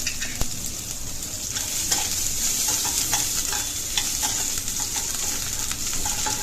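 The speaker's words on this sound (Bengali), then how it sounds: "কালো জিরে পেঁয়াজ একটু ভাজা ভাজা হবে" Chopped onions sizzle steadily in hot oil, with occasional scraping stirs and small pops over the continuous frying hiss.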